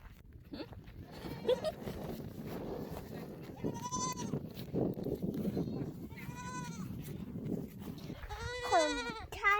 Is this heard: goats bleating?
yes